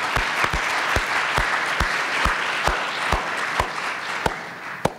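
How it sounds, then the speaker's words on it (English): A conference audience applauds speakers and panelists after a biodefense panel discussion, a steady close round of clapping with sharp individual claps standing out, tapering slightly toward the end. "Let me just have a round of applause."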